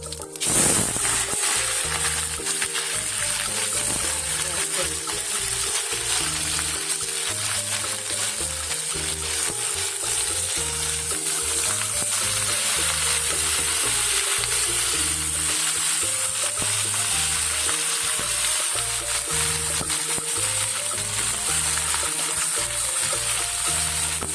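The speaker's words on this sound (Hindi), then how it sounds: "देखिए तेल हो गया है गरम, अब मैं डालूँगी इसमें जीरा" Cumin seeds and potato-cauliflower frying in hot oil, a dense, steady hiss of sizzling that runs unbroken for the whole stretch, with faint stirring beneath and no voices.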